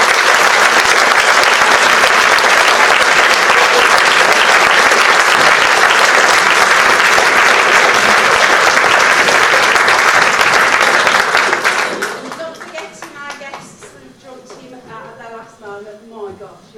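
Loud, dense applause from a concert audience at a summer music concert fills the space for about twelve seconds, then fades into scattered claps as a voice begins speaking.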